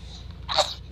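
A young child gives one quick, sharp sneeze, a short burst over a low background hum.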